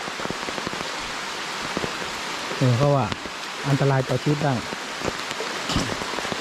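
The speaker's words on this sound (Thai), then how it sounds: "ฝนตกมาเยอะ" Heavy rain pours down in a constant, dense hiss at a waterfall while a person speaks briefly in the middle, half buried under the downpour.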